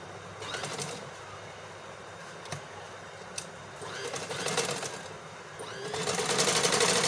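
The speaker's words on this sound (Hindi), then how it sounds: "ये देखिए, यहाँ से हम इसकी सिलाई लगाएंगे।" A sewing machine stitches the side pocket of a women's kurti in bursts of rapid mechanical whirring, with short pauses between runs; close and moderately loud, with no talking.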